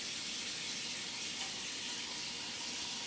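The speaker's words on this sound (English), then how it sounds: "We're gonna open some cool, hot water." Hot water running steadily from a kitchen tap into a sink while catfish is being washed, a constant close hiss with no pauses and no talking.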